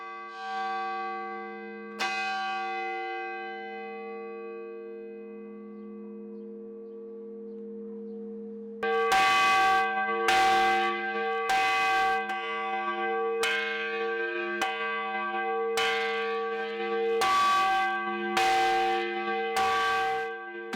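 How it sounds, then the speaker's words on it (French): A church bell in the Romanian village of Cincu, rung by pulling a metal cord, starts with one ringing strike and a long fading hum, then about ten loud, evenly spaced clangs over a sustained resonant tone. "je fais sonner chaque cloche pendant 3 minutes"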